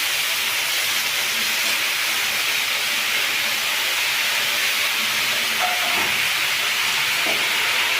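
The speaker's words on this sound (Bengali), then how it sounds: "এই দেখো সবজিগুলো সব ভাজা হয়ে গেছে, এবার আমি শাকটা দিয়ে দেবো।" Vegetables frying in a pan with spinach leaves added, giving a steady, loud, continuous sizzling hiss that runs throughout, with a few faint clinks near the end.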